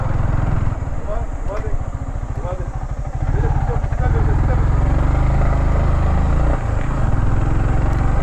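A motorcycle engine runs steadily and loudly while riding on a road toward a mountain viewpoint, with a close, continuous rumble throughout.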